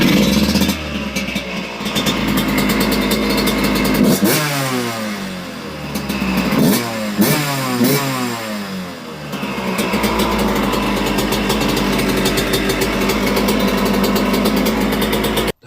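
A 1999 Suzuki RM125 two-stroke dirt bike engine runs close by, idling raggedly then revving up and down in several sharp blips before settling back to a loud, buzzy idle.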